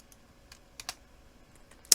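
A handful of sharp computer keyboard key presses land sparsely and close, with quiet gaps between them and a louder final click.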